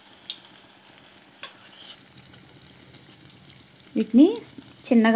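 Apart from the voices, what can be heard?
battered pieces deep frying in oil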